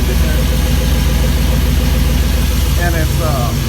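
A 1956 Ford F-100 with an LS engine swap and a homemade exhaust idles close by, giving a steady, even rumble that holds throughout without a break.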